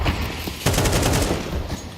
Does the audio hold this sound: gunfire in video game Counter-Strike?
yes